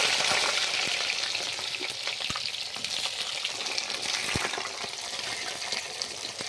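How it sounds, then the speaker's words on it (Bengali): Sugar dropped into hot oil in a pan fries with a dense, loud, continuous bubbling sizzle, steady throughout with a couple of sharp clicks of utensils, no talking. "ওই তেলে চিনিটা দিয়ে দিচ্ছি। চিনিটা এখন গরম হয়ে উপরে উঠে যাচ্ছে।"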